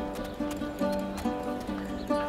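Horse hooves clip-clop in a steady, close rhythm under a musical score, with no clear whinny standing out.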